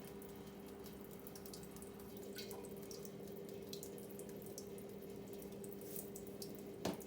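Tap water runs steadily into a pot being filled for brining quail, a faint continuous splashing rush with a brief clink near the end.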